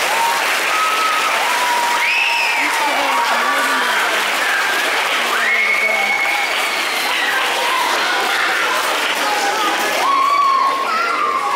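School assembly audience of staff, students and parents applauding a young girl, steady dense clapping mixed with high children's cheers and whoops throughout.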